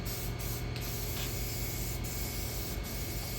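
Aerosol spray paint hissing steadily onto the back sides of arcade game parts, a loud continuous close spray with brief pauses as the nozzle is released.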